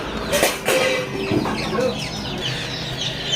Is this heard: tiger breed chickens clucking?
yes